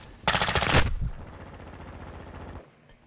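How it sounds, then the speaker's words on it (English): Burst of rapid automatic gunfire in a video game, loud and dense for about half a second, then a lingering rumbling tail and echoing shots that fade out near the end. "Bro, where am I being shot from?"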